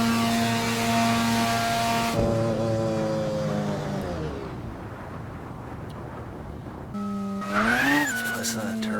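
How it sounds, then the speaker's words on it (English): A turbocharged car engine from the Shutoko Revival Project in Assetto Corsa, loud and close, climbing through gears with rising harmonic whine, dropping off into a lull, then surging again near the end. "Listen to that turbo."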